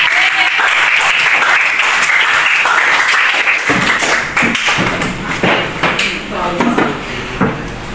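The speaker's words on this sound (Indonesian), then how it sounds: "Sudah, tepuk tangan untuk teman saya." A classroom group claps loudly for a role-play group: dense, continuous applause with sharp hand slaps and a few thumps, thinning toward the end as voices come in.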